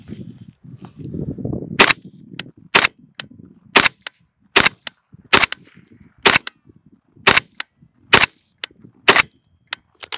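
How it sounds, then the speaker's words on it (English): Sharp AK-47 rifle shots fired one at a time at a steady, unhurried pace, about a dozen loud reports with clear gaps between them and no talking. "But overall, it's a good shooting gun."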